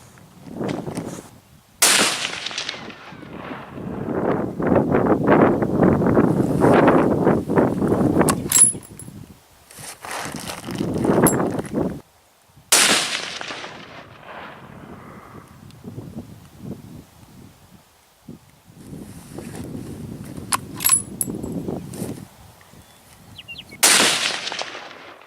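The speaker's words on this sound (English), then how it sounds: "I'll shoot one more bullet" Rifle gunshots at an outdoor shooting range: three loud, sharp reports spaced roughly ten seconds apart, each followed by a short decay, with rustling noise filling the gaps between shots.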